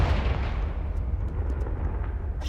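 A Confringo explosive spell blasts in Hogwarts Legacy, a dense low rumble with crackling bursts that holds loud and steady throughout, without any voices.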